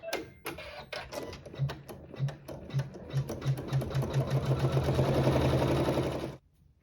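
A sewing machine stitches a tack-down onto quilt fabric, its needle running in a quick, steady rhythmic whir that speeds up and then stops abruptly, close and clear with no talking.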